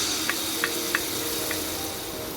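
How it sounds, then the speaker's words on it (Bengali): Banana flower paste with black cumin, dried chilli and garlic fries in a pan with a steady, close hiss of oil, broken by a few soft pops. "এখানে ভাজতে দিয়ে দেবো।"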